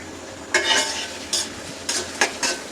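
Onion frying in a pan on a home stove, a continuous sizzle broken by four or five sharp bursts of stirring and spatula scrapes against the metal, close up with no talking.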